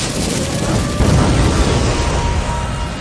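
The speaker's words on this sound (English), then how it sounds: "Fire style! Flame bomb!" A fire-style flame bomb jutsu explodes in a Naruto anime battle, giving a loud, sustained booming roar with a burst of force around the one-second mark that stays dense and rumbling to the end.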